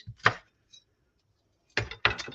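A knife thinly slicing onions on a cutting board for caramelising, a few quiet, crisp cuts: one at the start, then a pause, then two quick strokes close together.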